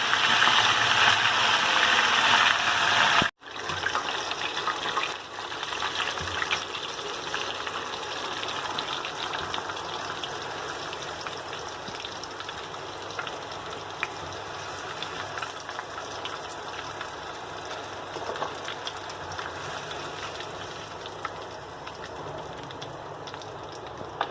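Pieces of meat frying in a pan, a continuous bright sizzle and crackle up close, loudest at first and settling into a steadier, slightly quieter fry after a brief break.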